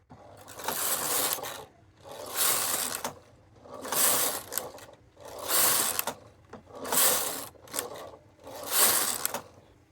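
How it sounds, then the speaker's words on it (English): A knitting machine working six rows of a lace pattern: the carriage sweeps back and forth in six evenly spaced, loud mechanical passes with rattling, whirring clatter, separated by brief quiet pauses. "I'm going to go ahead and knit 6 rows right now"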